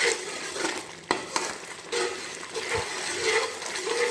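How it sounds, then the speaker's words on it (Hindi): A spoon scrapes and stirs thickening coconut milk halwa in a pan, with a soft bubbling sizzle underneath and a few sharper clinks of metal against the pan. "तो आपने इसे चम्मच हिलाते रहना है, नीचे ना लगे बस।"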